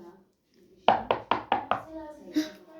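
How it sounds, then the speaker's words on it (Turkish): Knocking on a door: five sharp, evenly spaced raps close by, preceded and followed by voices talking. "Of kapı mı?"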